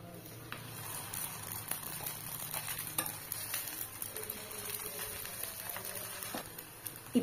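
Parotta flatbread frying on a hot pan gives a steady, close sizzle with light stirring and scraping clatter throughout, no voices heard.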